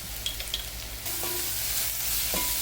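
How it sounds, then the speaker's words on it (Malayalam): Onions with turmeric and salt sizzle steadily in a pan for poori potato masala, with a few scraping stirs over the continuous frying hiss, close up. "ഇതെല്ലാം കൂടി നമുക്കൊന്ന് വഴറ്റിയെടുക്കാം."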